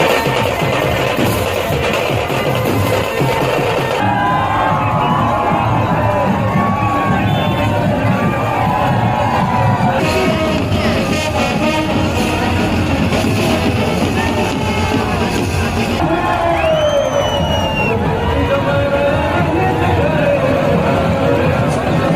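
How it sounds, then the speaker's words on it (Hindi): Large crowd of Shiva devotees at a Shiva wedding procession in Jharkhand, chanting and cheering in a dense, continuous roar with shouts and whoops rising over the babble throughout. "हर तरफ हर हर महादेव के नारे लग रहे थे।"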